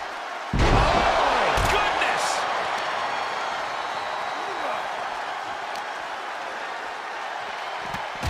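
A WWE 2K23 arena crowd roars loudly and steadily through a John Cena vs The Great Khali championship ladder match on PS5, opening with a heavy slam thud.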